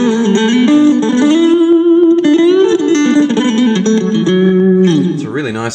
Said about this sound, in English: It's a really nice glassy overdriven sound.